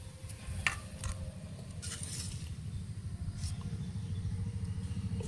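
Lumpy mixed vegetable rice is stirred in a large pot while cooking for a mass food offering. A steady scraping and churning continues throughout over a low, constant rumble.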